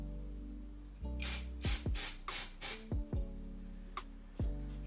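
A spray can is aimed at the curved part of a frontal wig during ponytail styling, giving a series of short, close hissing bursts, about seven quick puffs in rhythm, then a couple of lighter spurts.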